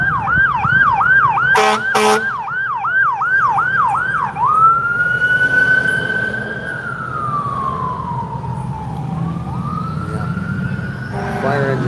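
Sirens from a fire engine and another emergency response vehicle pass on a street, a rapid yelp giving way to a long rising and falling wail, loud and close over steady traffic rumble.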